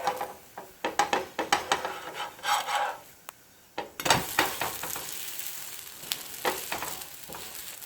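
A palak methi dosa cooking on a griddle, a run of rhythmic scraping and rubbing strokes from a spatula over a soft sizzle, close and moderately loud, then a brief pause before a burst of louder scraping.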